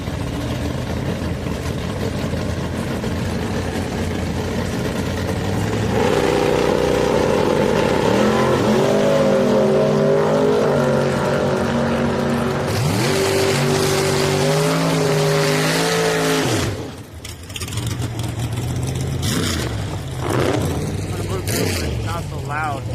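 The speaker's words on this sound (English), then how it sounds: "bracket racing, they send them fast, so it's loud" Drag race cars launch at a bracket race: engines roar loud and sustained and rise through revving gear changes over a continuous crowd rumble, with voices talking nearby.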